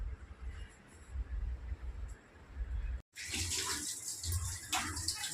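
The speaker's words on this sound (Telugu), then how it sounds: "అది వాష్ చేసిన కూడా కడిగేస్తాను నీట్గా" Tap water runs steadily while vegetables are washed under it, with a soft rushing splash that briefly cuts out and then returns louder and brighter.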